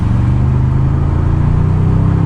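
A 2023 Toyota Tundra TRD Pro hybrid pickup accelerating hard on a test drive, giving a steady loud engine drone with a low humming tone heard from inside the cab and no talk.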